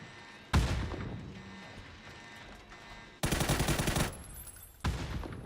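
Gunfire in a video game scrim match, with several loud, abrupt bursts of rapid shots, each trailing off into a quieter background.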